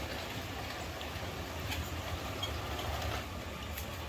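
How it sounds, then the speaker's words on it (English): Two motorized LEGO trains, including a large Big Boy locomotive model, run along a track with a steady, continuous rolling rumble and faint clicks, moderately close and without pauses. "we've got 2 trains coming"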